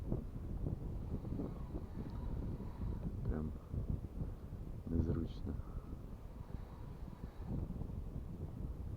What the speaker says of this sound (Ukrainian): Вітер видуває, шнур дуже сильно.